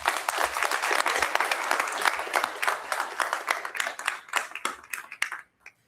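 At a school board meeting, an audience applauds a girls' high school basketball team, state runner-up, with brisk clapping that gradually thins out into a few scattered claps before stopping.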